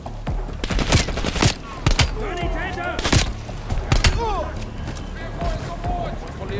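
Gunfire in the video game Call of Duty Black Ops Cold War, with loud irregular bursts and single shots cracking out close, scattered thuds between them, and someone talking under the shooting.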